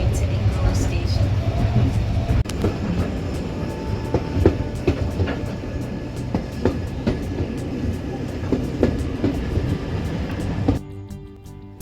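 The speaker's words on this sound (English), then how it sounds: "We're on the steam train and I'm on the way to Ingro station." Steam train on a heritage railway near Haworth, bound for Ingrow station, heard from on board as a continuous rumble with rhythmic clickety-clack of wheels over rail joints, loud and steady throughout before dropping away near the end.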